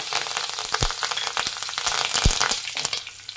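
Curry leaves sizzle and crackle in hot oil with garlic while frying crisp for a Hithik Avare mixture snack. A loud, steady hiss is broken by a few sharp pops and stirring clinks.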